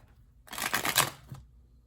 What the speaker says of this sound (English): hold please while I do a quick shuffle.